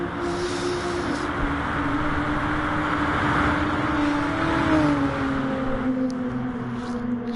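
Racing cars, a Group 3 Volkswagen Beetle pursued closely by a rival at the Nürburgring Nordschleife in a racing video game, drone in a continuous loud engine note whose pitch bends upward near the end.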